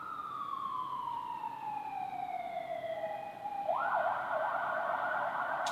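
An emergency vehicle siren sounds outside in a city, a fairly faint, distant wail that glides downward and then switches to a rapid warbling yelp.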